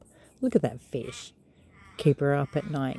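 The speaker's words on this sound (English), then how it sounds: "Listen to the crows in the background confirming." Crows caw a few times in the distance, faint and partly covered by a voice talking close up.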